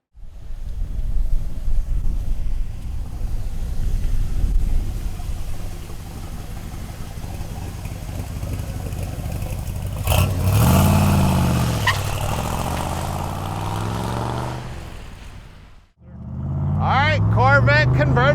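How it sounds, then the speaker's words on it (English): A 1967 Chevrolet Corvette convertible, top down, runs on a curvy road with a low engine rumble and wind buffeting. Someone talks over the drive partway through, and there is a brief drop before the engine noise returns. "We're driving around curves in a Corvette"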